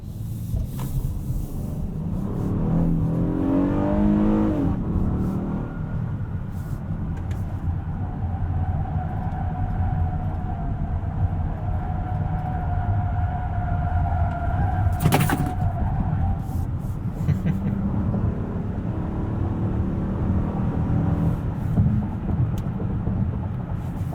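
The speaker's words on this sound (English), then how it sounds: "I noticed the road noise is just a little bit louder than I'd like" Constant low rumble of tire and road noise inside a 2021 Honda Odyssey on a highway, with a passing whoosh partway through.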